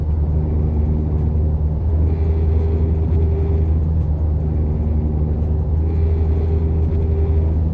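A Toyota Tacoma TRD Pro or Chevrolet Colorado ZR2 pickup truck's exhaust rumbles loudly and continuously, a deep, throbbing idle with slight swells in engine pitch and no voices.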